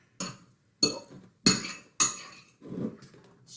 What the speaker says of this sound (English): We've got our avocado in our bowl, and we're just gonna kind of smush it all together